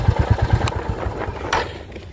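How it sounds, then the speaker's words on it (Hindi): Royal Enfield Classic 350 motorcycle idling with a bassy exhaust: a deep, loud thumping pulse that runs steadily close by, with no talk over it. "इसका जो एग्जॉस्ट है वो काफ़ी बेसी है पहले से"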